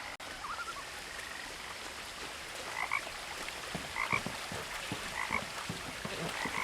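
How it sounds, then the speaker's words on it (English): Frog croaking in the video game What Remains of Edith Finch: short paired croaks repeat every second or so over a steady hiss like light rain, with no voices. "A frog."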